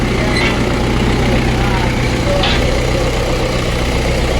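An old-model Mahindra tractor engine, the kind started by pulling a rope, runs with a loud, steady diesel rumble and clatter. It continues without a break from start to finish.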